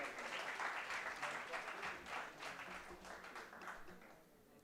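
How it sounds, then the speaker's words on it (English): A conference audience applauds a panel at a business event, a dense burst of clapping that swells and then gradually thins out toward the end. "Can we have a big round of applause for the entire panel?"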